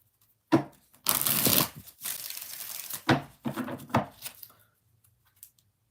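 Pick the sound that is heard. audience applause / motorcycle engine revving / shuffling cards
shuffling cards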